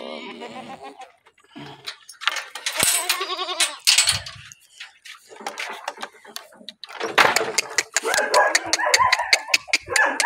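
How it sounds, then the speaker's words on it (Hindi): Goats bleat loudly and repeatedly at feeding time, their calls overlapping in quick bursts at close range, with a voice speaking between and over them. "चारा डालने के वक्त बकरियों को मैं बाहर निकाल देता हूँ"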